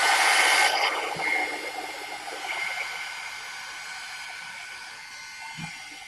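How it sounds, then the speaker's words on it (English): A hair dryer blows during an art stream, loud at first, then cut to a softer steady whoosh that fades gradually, with a couple of faint thumps in the background. "Chat amongst yourselves while she's got the dryer on."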